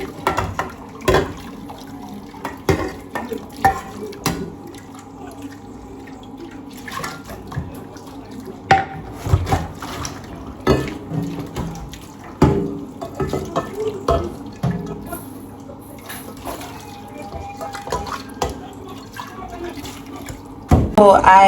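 Tap water splashes into a cooking pot being rinsed in a kitchen sink, a steady running stream broken by clanks and knocks of the pot, with a person talking now and then.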